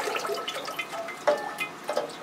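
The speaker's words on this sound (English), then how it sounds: "So we'll give that media a flush." Water pours and trickles through orchid potting media, with steady splashing and scattered drips, close and fairly loud.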